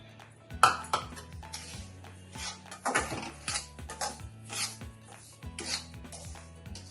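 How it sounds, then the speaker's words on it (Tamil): Semolina being roasted in ghee in a pan, with irregular scraping and rasping strokes of a spoon against the metal and occasional light clinks, close and fairly quiet, with no talking. "இந்த ரவையை முதல்ல அதில் வறுத்துக்கலாம்."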